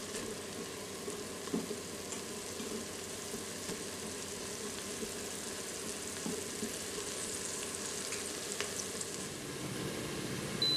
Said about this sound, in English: We just completed sautéing the condiments.